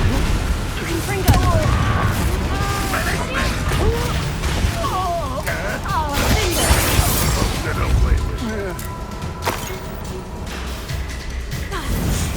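Confringo blasting spell explosions in the Hogwarts Legacy video game, loud booms and crashes layered under music, voices and continuous battle noise throughout.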